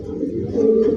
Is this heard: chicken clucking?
no